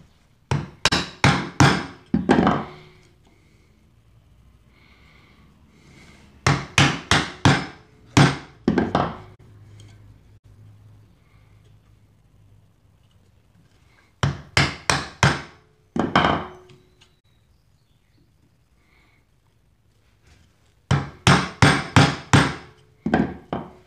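Mallet blows driving a chisel to chop a mortise in wood for a spice rack, loud sharp strikes in tight bursts of four to six hits with quiet pauses between groups.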